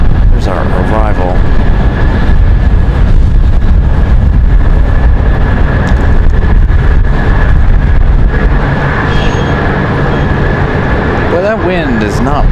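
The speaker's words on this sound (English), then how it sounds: "That wind is not playing any games with me" Strong wind buffets the microphone during plane spotting at Raleigh-Durham International Airport, a loud, constant low roar and rumble that swamps everything, with a voice speaking through it now and then.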